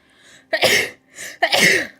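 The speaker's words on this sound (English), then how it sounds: "Sneezes." Two sharp human sneezes close to the mic, each preceded by a quick inhale, spaced about a second apart with brief quiet between them.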